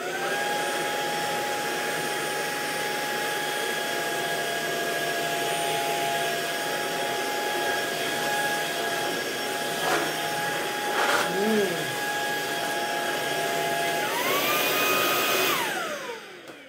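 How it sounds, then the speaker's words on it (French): A household vacuum cleaner runs steadily with a loud, close, droning motor whine, shifts pitch near the end, then winds down. "je vais prendre l'aspirateur et venir aspirer."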